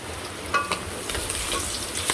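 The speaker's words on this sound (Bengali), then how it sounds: "আর এই যেদিকে চুলাই তো মাছ দিয়ে দিছি, ভাজি করবা নিছি।" Fish fries in a pan on a village cooking stove, giving a soft, steady sizzle with a few light stirring or shifting clicks over about two seconds.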